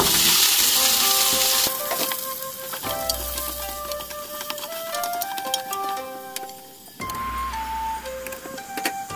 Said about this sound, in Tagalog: Lagyan natin ng mantika ang ating kaldero. Isagisan tayo yung bawang.